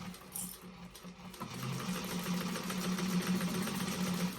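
A sewing machine back stitches a vintage expandable tote bag, starting with a brief stitch burst, a short pause, then a continuous fast mechanical hum of stitching, close and fairly quiet.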